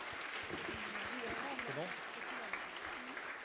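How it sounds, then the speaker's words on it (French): Audience applause after a sustainable-development and social-responsibility conference talk, a soft, steady wash of clapping from the room with a voice speaking briefly over it. "on peut les applaudir à nouveau pour toutes ces informations"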